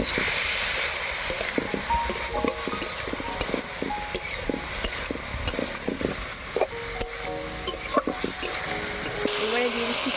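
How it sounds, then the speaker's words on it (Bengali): Chicken frying in a pan with chili powder, garam masala, ginger and garlic paste for chow mein: a steady, loud sizzle throughout with scraping stirs and clinks, close up. "চিকেনটাকে এবারে ভালো করে ভেজে নেব।"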